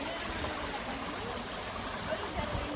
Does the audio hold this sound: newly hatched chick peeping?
no